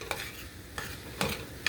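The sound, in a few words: stirring butter melting in a pan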